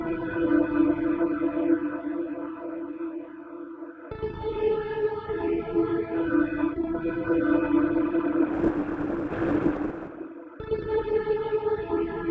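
A dense, shifting granular synthesizer texture in Logic Pro with echoing, grainy fragments as the grain size changes, sustained and moderately loud, swelling into a hissy, noisier burst near the end.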